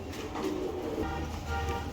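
Danish pigeons coo softly at close range, a low, throaty warble repeating through a brief moment with no talk.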